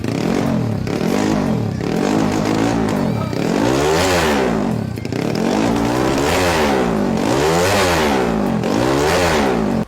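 A Honda Wave 125 style motorcycle set up low for drag racing revs loudly and repeatedly, its engine note sweeping up and falling back in rapid cycles with some mechanical clatter, close and without speech.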